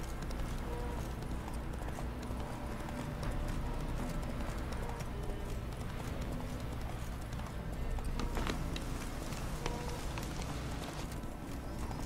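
Steady clip-clop of horse hooves as a rider travels at a walk in The Witcher 3: Wild Hunt, in Novigrad. The rhythm stays even and close for the whole stretch over a dense game soundscape, with no talking.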